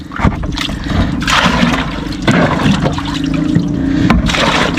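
Water is bailed with a bucket from the bottom of a small inshore fishing boat in Cornwall, with repeated close sloshing scoops and splashes in irregular bursts, loud and near.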